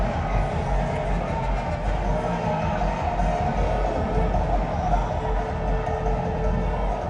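A crowd at a West Indies versus India Test cricket match roaring after a boundary, a dense sustained wash of cheering and noise throughout, loud and steady with no clear voices standing out.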